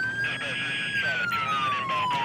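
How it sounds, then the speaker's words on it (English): A police siren from the video game GTA 5, on a CHP state trooper's unmarked Camaro ZL1 patrol car, wails steadily with a slowly falling tone, loud and close, as it is switched off. "I'm going to get my sirens turned off."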